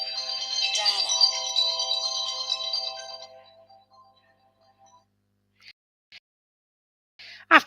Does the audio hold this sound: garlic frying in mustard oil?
no